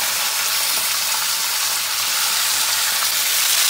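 Tomatoes frying in hot oil with garlic, cumin and green chilies for gongura chutney, a loud, steady, dense sizzle filling the whole stretch without pause.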